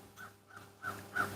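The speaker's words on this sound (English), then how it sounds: "Can you hear the birds?" Crows cawing somewhere in the distance, faint and quiet: a few short, hoarse calls, with the last two louder and closer together.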